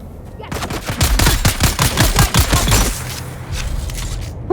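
Enemy gunners firing in the video game Dune: Awakening: a rapid burst of loud, close automatic gunshots in a fast rhythmic string, followed by quieter scattered shots and background noise.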